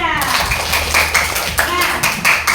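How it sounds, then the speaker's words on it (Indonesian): A group of participants at an activity session claps in uneven bursts at close range, with voices calling out among the claps. "Tepuk tangan untuk semuanya."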